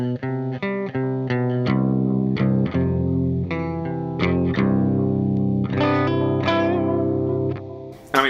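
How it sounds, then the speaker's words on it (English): Electric guitar notes ring out through an effects pedal, with swelling, reversed-sounding delay tails and a chorused, slightly distorted tone, played alone. "it's got like funky reverse delays in there"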